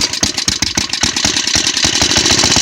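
A 2.5 horsepower small engine runs roughly right after being started on choke with a little throttle, a loud, steady, fast chugging putter with no talk over it.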